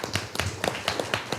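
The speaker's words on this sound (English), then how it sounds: "Round of applause." Audience applause at a school board of education meeting, a brief burst of scattered claps that is fairly faint, with a little murmur underneath.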